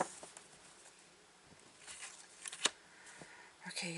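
Quiet papery riffling and soft flicks of oracle cards being shuffled, with a few sharper snaps near the end; no talking.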